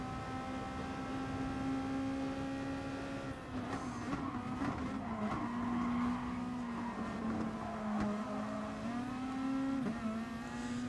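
A race car in Gran Turismo Sport rolls into the pits, its engine holding a steady droning note that dips and rises slightly with throttle changes, loud and continuous with faint tyre and background noise beneath.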